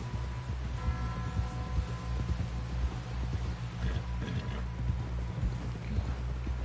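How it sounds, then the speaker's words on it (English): Steady clip-clop of horse hooves trotting at an even rhythm in Red Dead Redemption 2, close and clear over a low hum. "Someone help John down off this horse"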